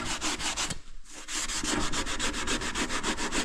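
A Scotch-Brite pad scrubs along the cracked weld seam of a radiator in steady, rhythmic back-and-forth rubbing strokes, close and fairly loud, with one brief pause early on.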